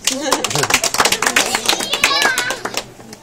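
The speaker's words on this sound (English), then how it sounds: "let's give them a round of applause" A small group applauding at a mystery spot tourist attraction, a short burst of close, uneven hand claps mixed with voices and chatter, fading out near the end.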